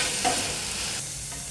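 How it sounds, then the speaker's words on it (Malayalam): Onions fry in a hot pan while being stirred, giving a steady close sizzle with soft scraping from the stirring and no speech. "നമ്മുടെ ഉള്ളി അങ്ങനെ തന്നെ ഇത്രയും നിങ്ങൾ മൂപ്പിച്ചാൽ മതി"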